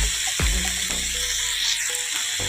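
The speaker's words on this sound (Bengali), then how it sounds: "এবারে ওই কড়াইতে তেল আছে বন্ধুরা, তো লোটে মাছগুলো ভেজে নেব" Lote fish frying in hot oil in a wok, a steady close sizzle with hissing spatter and a few low clunks of handling, no voices over it.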